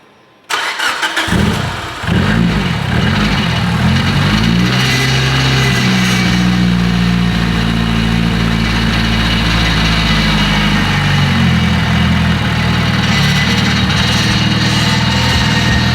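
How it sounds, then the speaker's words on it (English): A car with failing power steering starts up and settles into a loud, steady idle, with a droning groan from the steering pump running over the engine throughout. "Listen to how bad this power steering sounds."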